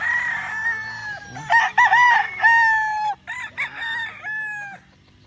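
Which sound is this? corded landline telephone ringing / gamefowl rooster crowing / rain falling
gamefowl rooster crowing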